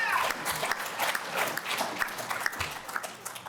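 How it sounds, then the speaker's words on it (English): An audience at a convention claps in a modest, fairly quiet round of applause, with individual claps standing out as the sound thins over a few seconds. "I appreciate the applause"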